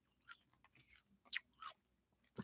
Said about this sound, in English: I'm crunching my cough drop already.